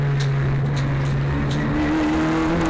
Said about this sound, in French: Beau dépassement pour Blekemolen.